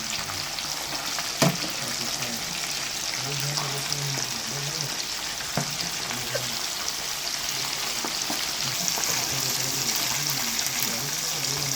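Crispy fish frying in a pan of hot oil, a steady loud sizzle and crackle that carries on throughout, with a few faint clinks and knocks of utensils.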